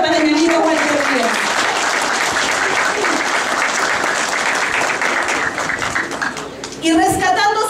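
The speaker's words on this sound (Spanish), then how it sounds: "Por eso les pido un aplauso de reconocimiento" Audience applause at a school services inauguration ceremony in Quiruvilca, loud sustained clapping from a crowd, with voices heard at the start and end of the clip.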